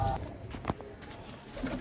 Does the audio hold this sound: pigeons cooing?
yes